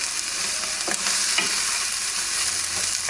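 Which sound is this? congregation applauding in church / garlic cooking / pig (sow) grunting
garlic cooking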